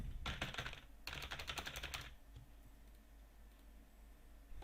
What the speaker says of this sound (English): if you type more and more and more, this is what's going to happen